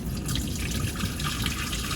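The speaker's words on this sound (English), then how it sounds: "Now since it's just white vinegar, I'm gonna pour it right down this drain here." White vinegar poured from a small fuel tank down a drain, a continuous close splashing, gurgling stream of liquid, fairly loud and steady throughout.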